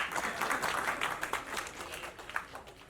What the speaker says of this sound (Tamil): இந்த கைத்தட்டல்கள் அனைத்தும் தோழர் சேகுவாரா அந்த டீமை தான் போய் சேரும்